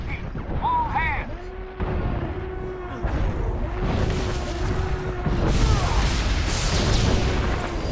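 Explosions from incoming fire striking a ship, a run of dull booms and bursts under a steady mechanical hum, with whooshing noise and a swelling rumble late on. Voices are heard amid the blasts.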